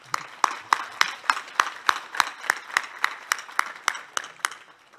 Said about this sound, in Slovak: Takže ak vás môžem poprosiť o taký jeden potlesk pre nich.